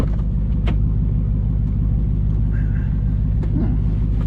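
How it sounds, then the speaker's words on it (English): Deep, steady low rumble of a 700-horsepower V8 in a Dodge Charger Hellcat idling from inside the car, a constant close drone with faint interior noises on top. "So it's a 700 horsepower V8"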